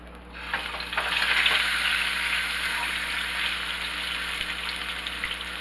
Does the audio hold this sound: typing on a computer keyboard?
no